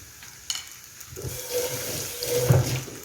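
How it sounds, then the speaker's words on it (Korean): Seafood stir-fries in a pan for tomato seafood spaghetti, a rising hiss and sizzle swelling close by with light clatter of utensils and no talking. "이렇게 볶아주시고 여기에 스파게티면"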